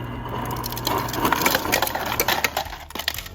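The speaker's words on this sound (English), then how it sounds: "We got cubed ice." Cubed ice drops from the door dispenser of a Kenmore 26.1 cu ft refrigerator, a burst of hard rattling clatters and knocks close by as cubes tumble into a container.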